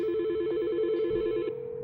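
Telephone ringback tone from a 3CX VoIP phone system, a pulsing electronic ring repeating rapidly for a couple of seconds before settling to a steady tone, clear and alone.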